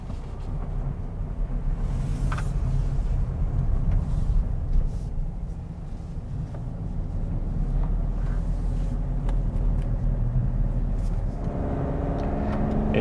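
Low road rumble and tyre roar fill the cabin of a 2021 Toyota Yaris Ascent Sport as it is driven, a steady, fairly quiet drone with faint wind noise and small bumps.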